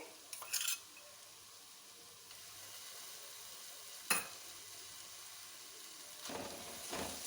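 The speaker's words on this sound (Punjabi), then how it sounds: "ਸਾਰੇ ਮਸਾਲਿਆਂ ਨੂੰ 1 ਤੋਂ 2 ਮਿੰਟ ਲਈ ਚੰਗੀ ਤਰ੍ਹਾਂ ਪਕਾ ਲਾਂਗੇ" Spice masala mix with green chilies frying in a pan, a faint steady sizzle with a few sharp stirring scrapes and clinks of a utensil against the pan.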